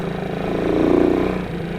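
A motorcycle engine with a carburetor needing adjustment idling roughly, its low putter swelling briefly then sagging and faltering as it stalls.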